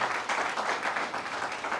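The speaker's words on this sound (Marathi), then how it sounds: "तर सगळ्यात पहिले तर आपण आपल्या स्वतःसाठी टाळी वाजवूयात" An audience at a business conclave claps together in a brief, continuous burst of applause, moderately distant and even throughout.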